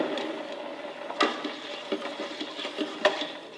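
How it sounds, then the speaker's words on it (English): A citric acid and vinegar mixture is stirred in a container, making a steady soft scraping with light clinks and taps throughout. "Again, we want to give this another stir."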